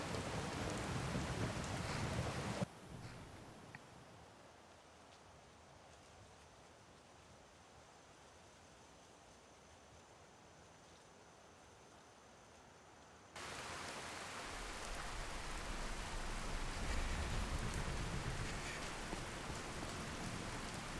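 Steady rain falls in the video game Skyrim around the city of Solitude, a soft continuous hiss that drops lower for a long middle stretch before returning fuller and denser, with no voices.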